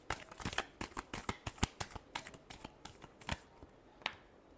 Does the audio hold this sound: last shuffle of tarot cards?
yes